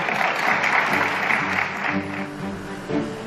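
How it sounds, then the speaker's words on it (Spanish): Applause from a council meeting audience after a vote is approved, a dense steady clatter of many hands filling the room, thinning slightly toward the end, with some voices mixed in underneath. "esto se merece un aplauso"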